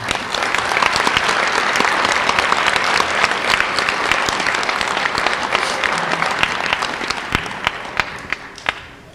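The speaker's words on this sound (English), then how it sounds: "just give each of our graduates and our speakers a round of applause" An audience at a Rock Valley College GED graduation ceremony gives the graduates and speakers a long round of applause, dense steady clapping with a few sharp individual claps standing out as it winds down.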